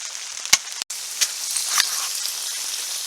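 Rain and wet snow fall on a hot tent in rising wind, a steady hissing patter on the fabric with a few louder drops and taps, close and without talking.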